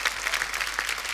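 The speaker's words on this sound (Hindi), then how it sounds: "जोरदार तालियां हमारी परफॉर्मेंस के लिए।" A television comedy show's studio audience applauds a performance, a short, steady burst of clapping without speech.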